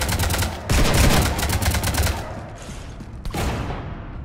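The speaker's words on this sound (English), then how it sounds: "You want to stop shooting up my ship?" Rapid gunfire rakes a ship in the sci-fi game Mass Effect 3, a dense burst of shots that thins out and then returns with a sharp crack near the end, loud and close.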